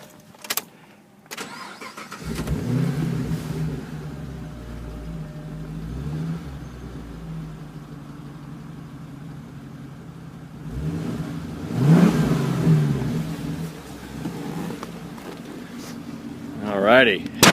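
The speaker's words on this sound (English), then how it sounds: "I'll go ahead and give it a quick start, let you listen to the exhaust." A 2011 Chevrolet Camaro SS engine cranks and fires up, then settles into a deep, rumbling exhaust idle nearby, with a couple of brief throttle blips later on.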